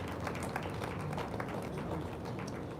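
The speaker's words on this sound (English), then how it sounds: "Shall we do a big round of applause?" Dense round of applause for a speaker at a large live event, steady broadband clapping filling the whole stretch at moderate distance with no break.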